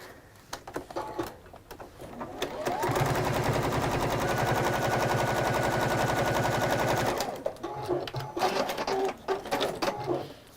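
Sewing machine running steadily for about four seconds as it stitches through layered fabric, a dense, even mechanical whir, loud and close, with quieter handling and rustling of fabric before and after.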